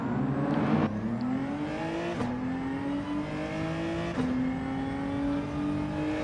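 Race cars competing in Gran Turismo 7, a steady engine drone rising in pitch through repeated gear shifts, with two brief shift breaks, heard close and continuous without talk.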